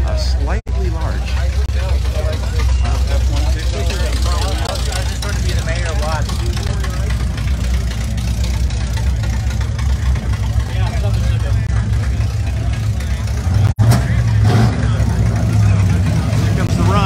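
Show cars starting their run at the 2022 Cruisin for a Cure car show, a steady rumble of idling and slowly moving engines, loud and close, with crowd chatter over it throughout.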